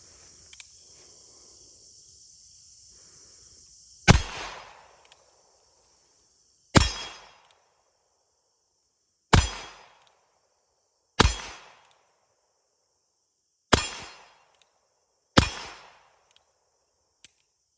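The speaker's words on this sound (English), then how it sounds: "I'm going to hit steel plates and see how accurate this pistol is." Six sharp .22 LR pistol shots, each ringing off steel plates at 7 yards with a short metallic decay, spaced a couple of seconds apart after a quiet, insect-filled start, close and loud.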